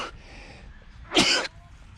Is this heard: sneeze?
yes